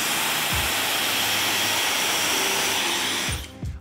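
A hair dryer blows a steady, loud, close rush of air over a mustache to spread and curl the hair, running continuously before the airflow shifts near the end.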